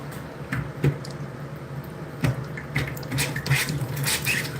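Water runs from a kitchen tap while a spatula is rinsed, with splashing bursts that rise and fall irregularly over a steady background trickle.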